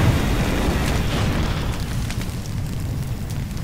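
Fire burns loudly in the video game Far Cry 2, a dense, booming roar with crackling bursts that holds steady for several seconds before easing slightly.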